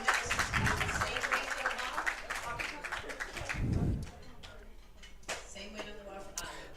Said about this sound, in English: And the crowd is cheering on.